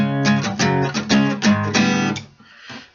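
Guitar on a riff, strummed chords in quick succession, then cut short into brief silent breaks made by lifting the fingers off the strings, with a faint muted scratch after.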